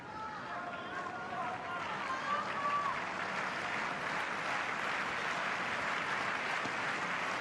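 Light applause greets the end of a sports rally, a thin patter of clapping from a sparse crowd heard at a distance, with a commentator's voice running over it early on.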